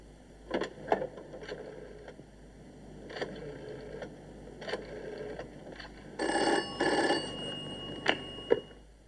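A telephone rings in repeated short bursts at a police office, each trill separated by pauses and standing alone with no talk over it.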